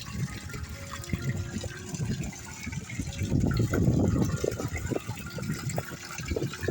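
Water gushing and splashing steadily into a cattle trough nearby, a continuous churning flow that swells louder midway.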